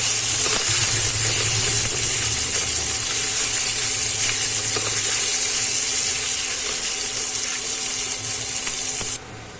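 Fresh green turmeric cooking in hot ghee in a pan for a Rajasthani sabzi, a loud continuous hiss and crackle that stays steady before dropping off abruptly at the very end.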